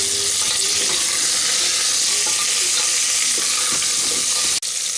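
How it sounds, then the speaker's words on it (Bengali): Potatoes frying in hot oil with salt and turmeric for a potato curry, a loud, continuous close-up sizzle with faint stirring clicks throughout, ending in a sudden brief cut. "এবারে আলুটাকে আমি ভেজে নেব"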